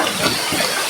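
Heavy rain pouring down outdoors, a loud, close, continuous rushing hiss of water with no voices.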